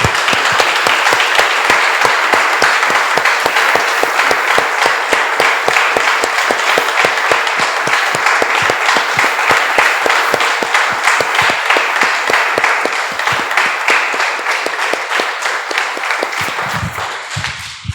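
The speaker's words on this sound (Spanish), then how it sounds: "Damos un aplauso, hermanos." A church congregation applauds in a loud, sustained wave of rapid clapping that holds steady for a long stretch before thinning out at the end.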